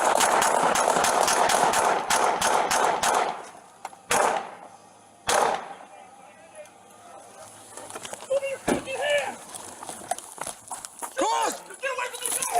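Gunfire erupts during a police officer-involved shooting recorded on a body camera: a rapid volley of loud, close shots, then two more single bangs, followed by shouting voices.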